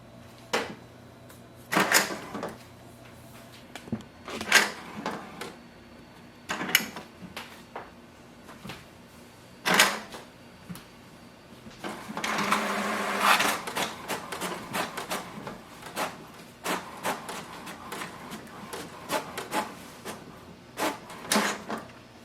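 An HP DeskJet 2910 inkjet printer runs a printhead cleaning and then prints a diagnostic page: scattered mechanical clicks and whirring bursts with a longer grinding stretch in the middle, all against quiet room tone.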